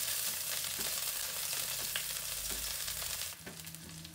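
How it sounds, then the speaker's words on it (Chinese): Garlic stir-frying in hot oil in a wok, a steady close sizzle with faint stirring scrapes, loud and continuous before settling slightly quieter near the end, no talk. "油烧热后，再把蒜放入锅中，"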